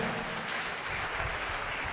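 A live audience claps loudly and steadily at a Christian sermon, a dense continuous patter of many hands with no talking over it.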